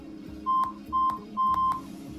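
A phone number being dialed in a Hindi family drama, heard as three separate beeping tones spaced roughly half a second apart over a low background hum.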